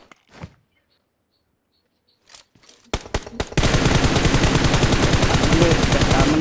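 Automatic rifle fire in the mobile battle-royale game PUBG Mobile: a few scattered single shots, then a loud, dense sustained burst of rapid gunfire lasting several seconds with no talk over it.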